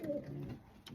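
Stock pigeons in a stock shed give a brief, soft low coo, faint and close, with a quiet background and no talking.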